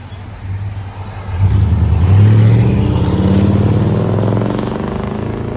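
A Chevy Silverado pickup with a 5.7-liter V8 and a 14-inch Magnaflow exhaust revs, giving a deep, loud engine drone. It rises sharply partway through, then holds steady and eases off slightly near the end.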